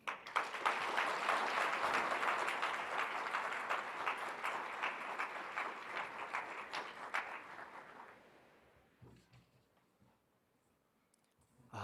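Sustained audience applause at a morning awards session, dense and loud for about eight seconds, then thinning to a few scattered claps before trailing off into near quiet.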